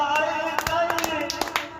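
Hand claps punctuate a song, sharp and fairly close, landing in an uneven rhythm of about ten strikes over a sustained melodic line.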